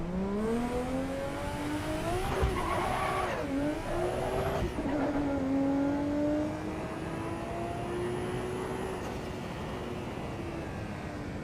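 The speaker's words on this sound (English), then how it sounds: "The exhaust note sounds a little bit like a Supra, but the engine does not sound like a 2J." A Toyota Supra engine under load in a racing video game, a sustained revving drone that climbs in pitch through gear changes, then holds a steady strained tone, loud and continuous with no talk.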